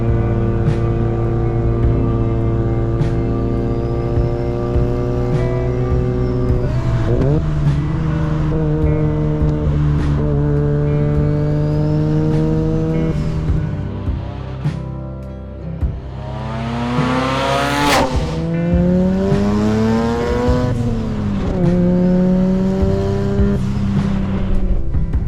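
A Mazda RX-7 rotary engine revs and drones loudly throughout, pitch rising and falling through gear changes, with a sharp surge partway through.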